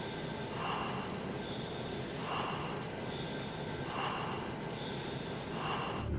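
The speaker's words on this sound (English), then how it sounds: "while Raiden is wearing this mask, we will be able to hear his breathing" Raiden breathes through a mask in Metal Gear Solid, slow, hollow, rhythmic breaths repeating about every 1.5 seconds over a constant hiss, close and muffled, with no talking.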